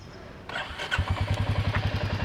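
Royal Enfield motorcycle started by hot-wiring after a lock failure: a short cranking whir, then the single-cylinder engine catches and settles into a loud, even thumping idle close by.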